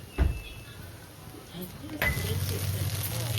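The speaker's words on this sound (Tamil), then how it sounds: "ரைஸ் இப்போ பார்த்தீங்கன்னா முட்டை நல்லா வதங்கிருக்கு" Egg fried rice sizzles in a pan with a steady frying hiss, and a sharp utensil knock comes early on. Scraping stir sounds follow, heard close and fairly quiet.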